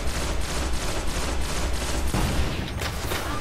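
Rapid bursts of gunfire from a first-person shooter video game, loud and continuous, with sharp repeated shots layered over a dense background of game effects.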